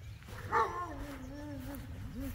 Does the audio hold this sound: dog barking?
yes